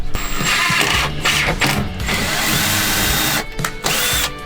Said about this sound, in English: I am screwing in the benches to our furring strip.